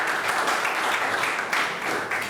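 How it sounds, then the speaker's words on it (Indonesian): Students in a class applaud together, a steady, fairly loud wash of clapping that lasts a couple of seconds with no talk over it. "Oke, ya, berikan tepuk tangan dulu."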